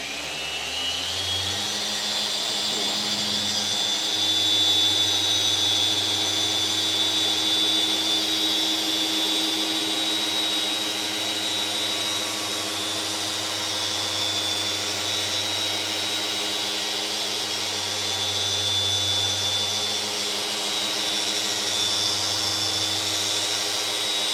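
A polishing machine works a glass car windshield at a higher speed setting, giving a loud, steady motorized whine and hum that runs unbroken throughout with slight swells in pitch and load, and no voices.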